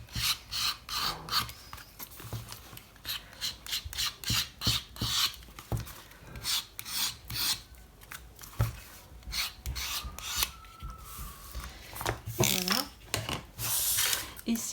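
A blade scrapes along the edges of a paper travel journal to distress them, giving rapid, close rasping strokes in uneven bursts, with a quiet voice speaking at times.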